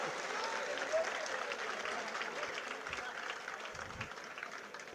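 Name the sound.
audience applause at a sermon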